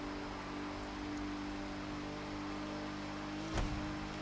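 A car in the racing game The Crew 2 cruises at about 190 mph on an open road, its engine a steady, loud drone with a brief thump near the end.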